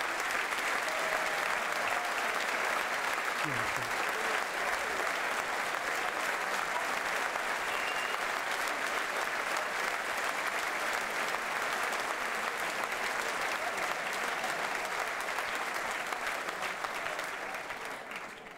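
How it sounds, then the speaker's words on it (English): Loud, sustained applause from a hotel function crowd greeting Bradford Bulls players Dan Fleming and Jake Maloney, a continuous dense roar of clapping lasting well over fifteen seconds before tapering, with a brief voice at one point. "again, a loud applause"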